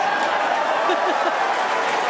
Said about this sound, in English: The crowd very excited to see that view